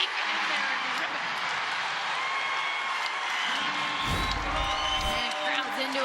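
Basketball arena crowd at an NCAA women's game between Utah and Colorado, a steady roar of cheering and applause that swells briefly near the end, with commentary continuing over it.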